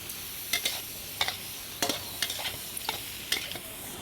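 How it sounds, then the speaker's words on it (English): Chunks of pumpkin are tossed in a hot pan for a Thai stir-fry in Krabi, with a spatula scraping in short, irregular strokes over a soft, steady sizzle. "Important when you're tossing this together not to break up the pumpkin."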